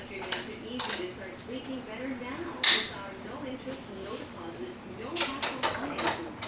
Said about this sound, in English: I just flipped it upside down and just put it in the vise just so we can install our snap ring in the rear carrier